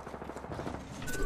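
Gunfire from the battle royale game Apex Legends, a dense, steady rattle of shots at moderate volume with no talk.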